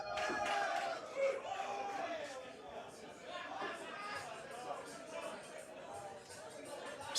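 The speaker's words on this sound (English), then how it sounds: "And listen to the crowd." Crowd at a poker event, a WNT rankings main table, cheers and shouts in loud, excited bursts, strongest at the start and then settling into rowdy hubbub, with a voice talking over it.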